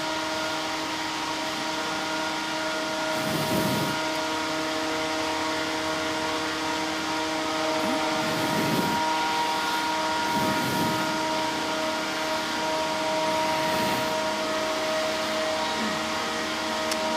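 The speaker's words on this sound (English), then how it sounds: "now the motor and alternator are slowly starting to increase its speeds" The SAQ Grimeton Alexanderson alternator and its drive motor spin up slowly toward 711 rpm, a steady loud machine drone with sustained whining tones and periodic swelling low rumbles, without speech.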